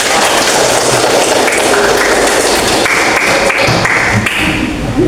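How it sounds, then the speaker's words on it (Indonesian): Hands clap together in loud, dense applause from a group, a continuous rattling patter with some heavier thuds, close and with no speech. "Tepuk tangan"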